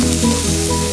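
Onion, capsicum and carrot sauté in a hot pan, giving a loud, continuous sizzle close by with a steady frying hiss and no talk.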